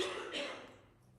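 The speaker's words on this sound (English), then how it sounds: "That's my better half coughing there because we have like a window in the upstairs." A cough from someone upstairs carries in faintly through an open window, one brief muffled burst that trails off into quiet room tone.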